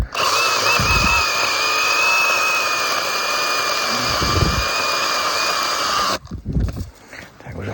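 A Makita DUC150 cordless mini chainsaw whines at a high, steady pitch as it cuts through a log over 20 cm in diameter, then stops abruptly, leaving quieter handling noises.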